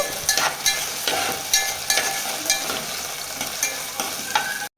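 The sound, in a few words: stirring cumin and green chillies frying in a pan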